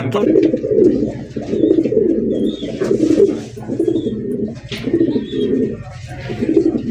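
Fancy pigeons coo in repeated low, rolling phrases at a pigeon farm, fairly close and steady, with occasional faint chirps above and a voice talking intermittently in the background.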